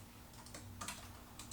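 Quiet, close keystrokes tapping on an Anker Bluetooth keyboard come in short irregular bursts over a faint background hum.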